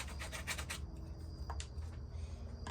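Sandpaper rubbed with downward strokes while making a simple Snoof puppet, a quick run of close rasping scrapes followed by quieter scratchy rubbing, no talking.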